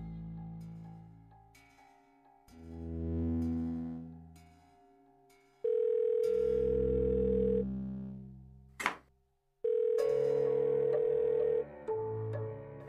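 A telephone line tone sounds while a call is placed: a steady sustained tone in long blocks broken by short gaps, one sharp click, and then a return of the tone, fairly quiet and with no talking.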